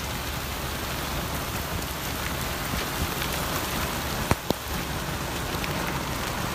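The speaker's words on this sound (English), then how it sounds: "The rain is picking up here." Steady, heavy rain pours down during a severe hailstorm, a dense, even wash of sound with two brief sharp knocks near the end and no voices.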